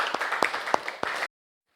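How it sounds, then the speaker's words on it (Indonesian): A classroom of students claps for a classmate, a short burst of scattered hand claps lasting about a second before cutting to silence. "Kasih tepuk tangan buat Aziza."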